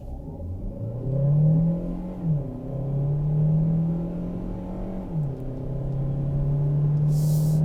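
A 2024 Hyundai Santa Fe Hybrid in sport mode accelerates hard from 0 to 60, its engine droning loud and steady and rising in pitch through two gear shifts, with no talk.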